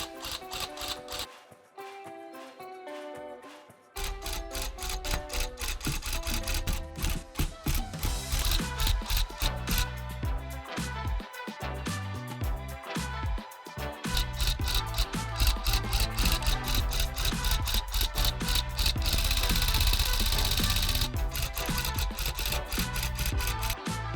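A tufting gun punches white yarn into a rug border, a dense rapid mechanical chatter running almost continuously, loud and close, with brief pauses between bursts.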